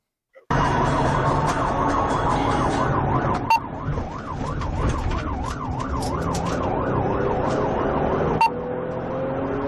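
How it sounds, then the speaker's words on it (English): A wailing emergency siren rises and falls steadily, loud and continuous over road noise, with a couple of sharp knocks partway through. "Shout out for having sirens"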